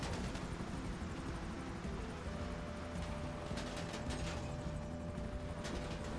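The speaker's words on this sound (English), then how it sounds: "I can take a couple helicopters shooting at me." Helicopters attack the player in Grand Theft Auto V, sounding as a steady, dense game roar of rotors and engine that fills the whole stretch at an even level, with sharp bursts of gunfire scattered on top.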